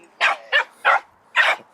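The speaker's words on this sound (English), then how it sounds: "dog barking competition" Dog barks at a dog barking competition, four loud, close barks in quick irregular succession with short pauses between them.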